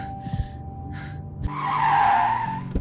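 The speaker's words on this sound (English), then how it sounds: "The car pulled over." A car pulls off onto the roadside, its tires giving a loud, rushing skid for about a second before it settles. A few quieter thumps come before and after.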